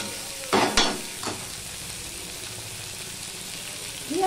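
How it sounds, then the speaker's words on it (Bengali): Thinly sliced potatoes and onion sizzle steadily in a pan with salt over a medium-low gas flame, a continuous close frying hiss broken by a couple of clattering stirs near the start. "নুন দিয়ে পেঁয়াজ আর আলুটা আমি ভালো করে ভেজে নেব"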